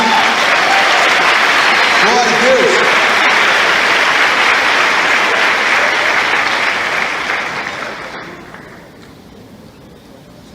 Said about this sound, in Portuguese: Você pode aplaudir aí por isso?